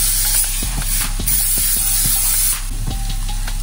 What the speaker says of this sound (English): We're gonna give it a little spray.